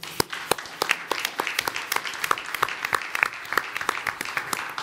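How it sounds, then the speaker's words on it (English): An audience at a housing policy panel event applauds, a dense, steady patter of many hands clapping throughout at moderate distance. "So I want to give them a round of applause."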